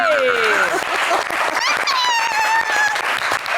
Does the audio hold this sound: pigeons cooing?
no